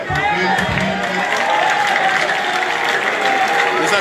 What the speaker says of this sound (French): Les acclamations qui fusent, qui montent.